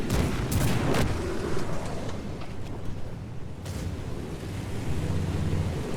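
Loud booming cannon blasts from a video game tank battle, with broadband bursts near the start and again midway over a steady rumbling backdrop.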